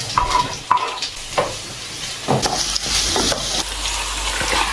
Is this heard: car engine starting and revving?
no